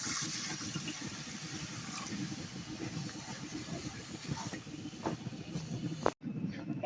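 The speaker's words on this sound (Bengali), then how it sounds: "ভাজা হয়ে গিয়েছে, এখন আমি 1 গ্লাস পানি দিয়ে দেব" A glass of water poured into a pan of roasted semolina and rice flour for pitha, giving a continuous close bubbling, hissing rush that lasts several seconds before cutting off abruptly, with no talking.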